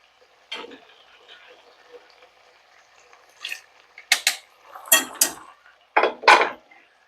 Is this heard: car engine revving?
no